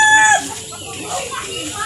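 Chickens on a backyard farm, a loud close crowing call cut off early, then softer clucking and rustling behind it, with faint voices in the background.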